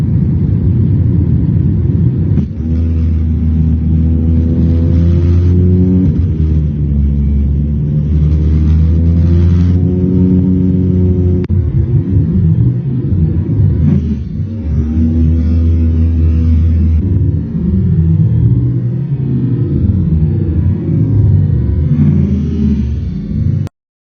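A jet engine roars muffled from inside a plane cabin after being struck, a loud, steady drone with shifting tonal layers that runs for about twenty-four seconds without talk.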